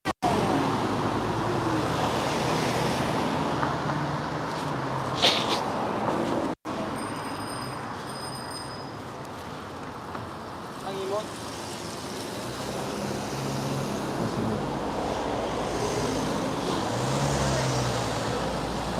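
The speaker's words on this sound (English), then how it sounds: "Oh, the traffic's so bad today." Heavy road traffic on a busy street in Seoul makes a steady, dense roar of engines and tires close by, with occasional passing vehicles and brief higher-pitched sounds.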